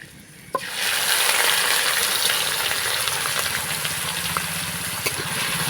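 Onion frying in a pan while being stirred, a loud, dense sizzle that starts abruptly and holds steady up close, with occasional spoon clicks on the metal.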